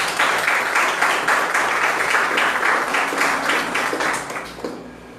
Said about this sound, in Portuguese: Aplaude teu Deus por isso.